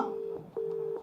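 A phone call's busy tone beeps in short, evenly spaced pulses, clear and alone.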